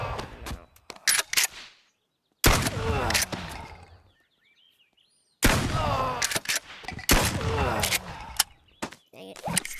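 Shotgun blasts in the VR game Bonelab go off in loud, sharp bursts separated by near-silent gaps, with rapid clusters of shots and mechanical clatter.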